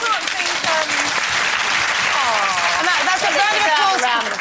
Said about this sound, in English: That's a round of applause for your age, love.